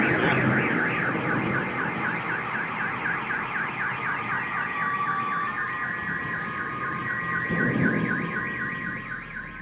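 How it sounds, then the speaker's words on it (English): A car alarm wails in a repeating warbling pattern, with another alarm tone layered underneath, over a wash of steady rain. "The bang was loud enough to set off nearby car alarms."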